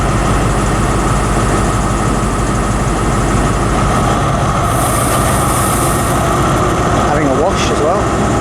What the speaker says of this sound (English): departing now is going to be the 1542 LNER service to Leeds, 43306